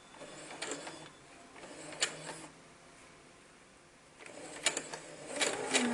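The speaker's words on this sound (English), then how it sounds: "I am stitching a 1/4 inch seam allowance for this French seam" A sewing machine stitches a 1/4 inch seam allowance for a French seam in two or three separate runs of fast, steady mechanical whirring, with quiet pauses between bursts and no talking.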